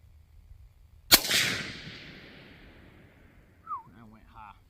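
A single sharp, loud report from a CVA Scout v2 pistol chambered in 300 Blackout fired outdoors at a target, followed by a long decaying echo, then a brief faint voice afterward.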